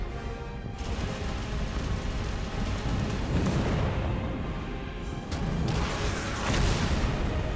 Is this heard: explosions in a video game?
yes